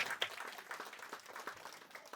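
Applause at a Hindi community gathering of a devotional group's admin team, brief scattered clapping from a small crowd heard moderately distant, fairly quiet and irregular.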